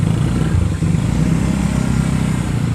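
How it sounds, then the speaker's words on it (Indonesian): Motorcycle on a night road between Ciawigebang and Pajawan Kidul, its engine droning loud and close with a steady low rumble and slight throttle wavering, heard alone without talk. "Ini depan ragu-ragu ya motor ya, mau masuk tapi ragu ya"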